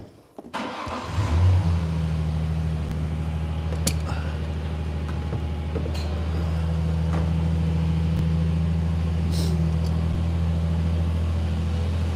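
A pickup truck engine cranks over and starts, then runs at a steady, loud idle with a deep low rumble that holds for the rest of the clip, with faint clicks and taps over it and no talking.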